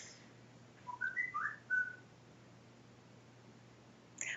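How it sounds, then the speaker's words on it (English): A phone's whistle notification tone for an incoming email or text chirps twice in quick rising whistles, soft and fairly close, over a quiet room hum. "My whistle? Yeah. It means I got an email, a text, or something."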